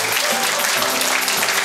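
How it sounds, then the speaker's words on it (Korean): Audience clapping at a Korean memorial society's inauguration ceremony for its new chairman, a steady wash of applause from a seated crowd lasting under two seconds, with no talk over it. "큰 박수 보내주십시오"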